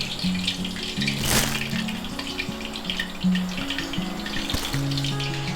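Banana fritters frying in hot oil, a steady bubbling sizzle up close, broken by a couple of sharp clatters.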